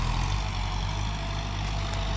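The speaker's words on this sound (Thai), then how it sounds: "รถไถนะครับ" A Kubota M6240 tractor engine runs with a steady, loud low-pitched drone, close and constant throughout, with no talk.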